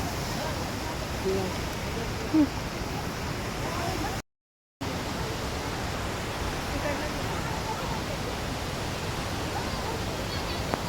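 Steady rain falls near Kanchan waterfall, a dense unbroken hiss of drops and rushing water heard close and even throughout, with a brief silent gap partway through.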